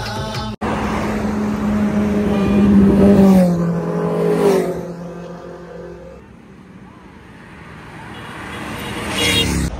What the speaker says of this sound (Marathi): आवाज ऐकला काय म्हणजे असं रक्त सलसलते रे. स्पोर्ट बाईकचा आवाज मस्त वाटतो.